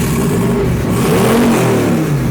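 A twin turbo Chevrolet S10 engine revs up close and loud, its pitch rising and falling over a couple of seconds with no talk.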